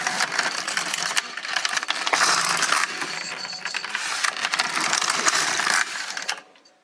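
An LK150 knitting machine knits two rows as its carriage is swept across, giving a loud, close, continuous clattering rasp with a short break around two seconds before it stops abruptly near the end, with no talking.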